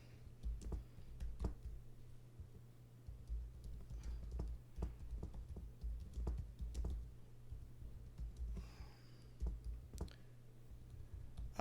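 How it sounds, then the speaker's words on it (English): Fingers typing on a computer keyboard, a steady run of quick, light key clicks with brief pauses, close but quiet over a low hum, and no one speaking. "let me see if I can type that in real quick."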